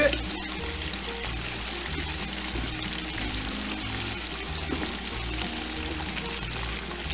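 Buttermilk chicken pieces being stirred while deep frying in hot oil give a steady close bubbling sizzle, soft and continuous throughout.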